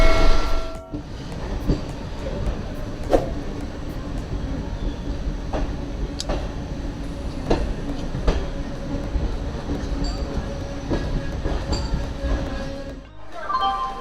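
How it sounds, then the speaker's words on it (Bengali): Steady rumble of a moving passenger train, the 12327 Upasana Express heading toward Moradabad, with rhythmic clacks and rattles and a brief dip near the end, continuous throughout. "ট্রেন মুরাদাবাদের দিকে যাচ্ছে"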